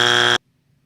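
A single loud studio buzzer on a radio show sounds as a harsh, steady electronic tone for under half a second, then cuts off into near silence.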